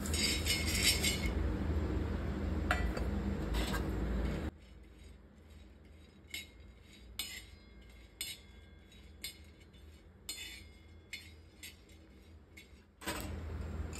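Sunflower seeds roast in a pan while being stirred constantly, giving scattered light clinks and scrapes against the metal, fairly faint, with a steadier hiss in the first few seconds.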